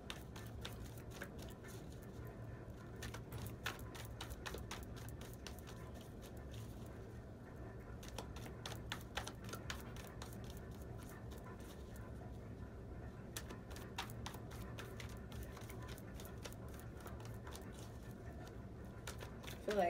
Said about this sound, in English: I feel like having an extra deck makes the shuffling time a lot longer.